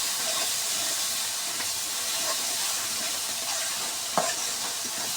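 Spice masala fries in oil in a pan for a chicken, whole pointed gourd and potato curry, a dense steady sizzle with soft scraping stirs and one brief louder clank near the end, with no voices.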